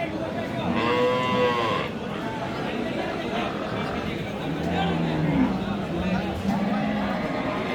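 Sahiwal cows moo at a busy outdoor cattle market, several drawn-out lowing calls close by amid crowd chatter and people talking throughout.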